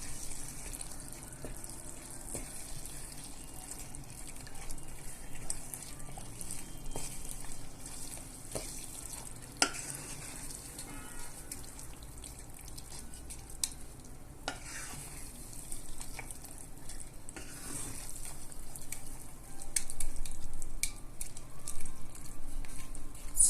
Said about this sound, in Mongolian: Яа жоохон буцалгаад гурил хийсэн болохоор гурилаа болтол буцалгах хэрэгтэй.